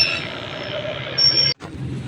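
Metro train arriving at a station, a steady rushing rumble with a high whine and squealing wheels that grows louder before cutting off abruptly, then the low rumble returns.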